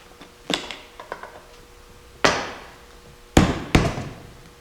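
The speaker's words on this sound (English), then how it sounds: "you can feel it clip into place" Seat cover clips snapping into place on a 2006–2009 Ram truck seat: a few sharp, close clicks and thumps, with two or three louder snaps near the end and quiet gaps between.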